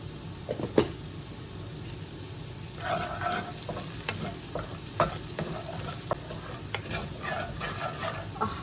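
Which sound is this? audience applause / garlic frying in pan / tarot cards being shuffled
garlic frying in pan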